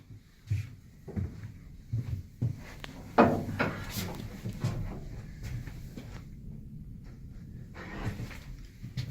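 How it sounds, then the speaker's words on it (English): Wrought iron door being pried and shifted with a flat bar during installation: a series of scattered scraping knocks, metallic clanks and rubs at uneven intervals, moderately close, with quiet pauses between the efforts. "take a flat bar here and simply move the door in the direction necessary"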